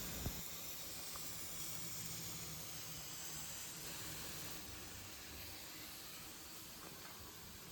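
Steady broadband hiss of steam escaping from a pressure cooker while mutton chops cook, a continuous, fairly loud rush with a faint low rumble beneath and no voices.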